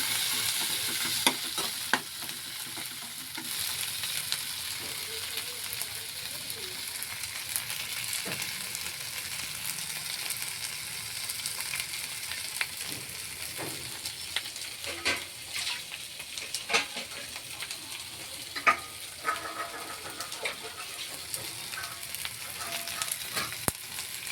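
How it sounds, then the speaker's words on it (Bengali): Spices and turmeric with taro frying in a pan for a Bengali fish curry, a steady close sizzle running throughout with scattered scraping stir clicks, no voices. "ভালোভাবে সব কিছু ভেজে নেব।"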